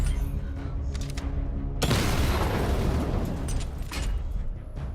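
A missile barrage in a video game erupts into a loud, dense wall of explosions after a short lead-in, then keeps rumbling and crackling near and loud for several seconds with no voices.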